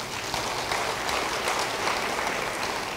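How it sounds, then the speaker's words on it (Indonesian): A church congregation at a Christmas service applauds steadily, a dense, even wash of clapping that holds for about three seconds with no voices over it. "Beri tepuk tangan bagi dia."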